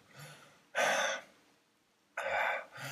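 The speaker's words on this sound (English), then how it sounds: "you could hear how the flow of air becomes more free" Two deep, drawn-out breaths, each a loud airy rush lasting about half a second, separated by quiet.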